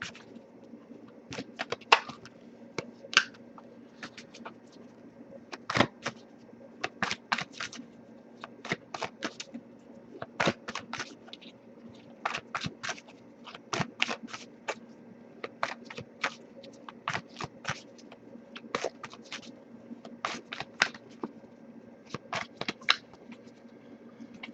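Crisp, rapid riffling and flicking of oracle cards in repeated bursts, close up, over a low steady hum with no talking.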